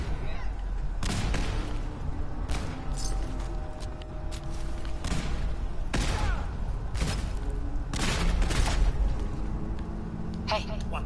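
Gunfire in the game Fallout 4 cracks out as a string of sharp, irregular shots of varying loudness over a steady background of ambient game noise.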